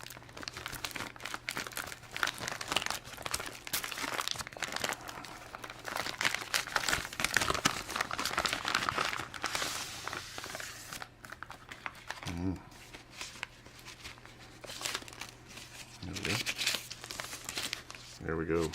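Moisture-resistant paper wrapped around a US M6 bayonet for the M14 rifle crinkles and rustles in close, steady bursts, with a low hum running underneath.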